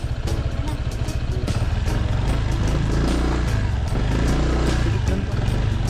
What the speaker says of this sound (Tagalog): Pasok naman yung motor.